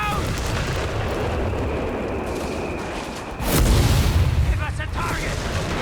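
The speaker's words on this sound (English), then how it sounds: "Red airburst really hitting hard." Airburst artillery shells detonate over a Company of Heroes 3 battlefield, a sudden heavy boom midway through followed by rumbling debris, set against continuous combat noise with a commentator talking over it.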